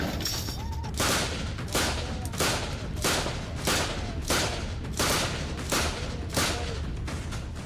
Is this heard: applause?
no